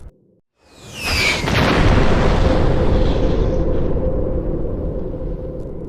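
A BrahMos missile strike explodes with a sharp whoosh and crack, then a heavy, sustained rumbling boom that slowly fades; it is loud and stands alone after a moment of near silence.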